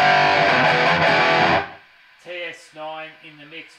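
Heavily distorted electric guitar chords through a Peavey 6505 Piranha amp with 1x8 cabinet and TS9 overdrive ring loud and saturated, then cut off sharply as a noise gate silences them, followed by a voice speaking.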